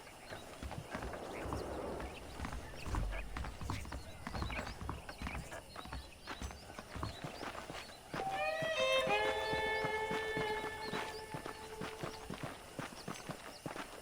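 Horse hooves clip-clop in a steady walking rhythm in the video game Red Dead Redemption. Partway through, a horse gives a loud whinny.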